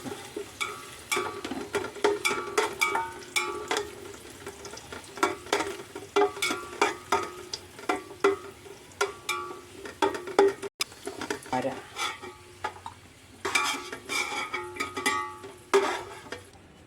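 Raisins sizzle in a hot pan while being stirred for ghee rice, with a steady soft frying hiss and repeated scraping and clinking of a spoon against the metal, fairly quiet and close.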